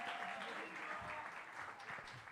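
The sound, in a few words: audience applause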